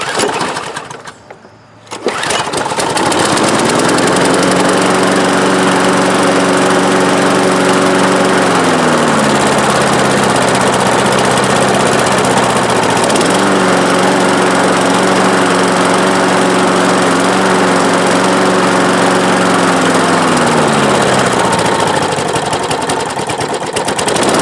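A DR Power Wagon dump cart's small engine starts after a brief silence, then runs steadily and loudly close by, its pitch dipping and rising slightly a couple of times as the speed changes.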